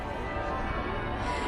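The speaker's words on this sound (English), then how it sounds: "The bells are tolling at the cathedral" Leicester Cathedral's bells toll in the evening, heard as a steady, dense metallic ringing wash that continues unbroken and carries no talk over it.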